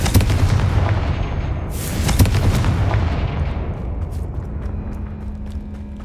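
A Confringo spell bursts in Hogwarts Legacy with a loud deep explosive boom and a sharp crackling blast, then a rumbling tail that fades away over several seconds.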